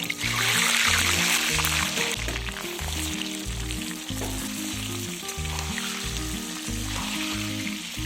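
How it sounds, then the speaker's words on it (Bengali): Parboiled, salted potatoes fry in hot oil in a kadai with a steady, bright sizzle over several seconds, under rhythmic background music. "অল্প সিদ্ধ আলুগুলো এর মধ্যে দিয়ে দেব।"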